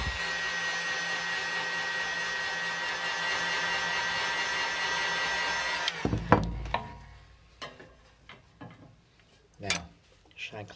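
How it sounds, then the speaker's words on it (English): A heat gun blows a loud, steady hiss for about six seconds during repair of a cracked mirror, then cuts off, followed by scattered handling knocks and clinks. "Alright, again, heat gun."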